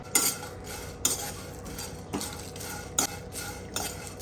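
Cinnamon, black pepper and cloves being fried in a pan, with a spoon scraping and clacking against the metal in four or five distinct strokes over a faint background, close by and with no talking.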